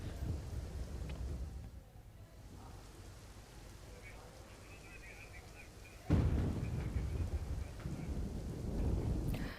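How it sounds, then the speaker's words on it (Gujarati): Heavy monsoon rain pours steadily in Vadodara, a dense continuous hiss of rainfall on surfaces, with a low rumble like distant thunder and a louder surge of downpour midway. "તો વડોદરામાં સતત વરસાદ વરસી રહ્યો છે।"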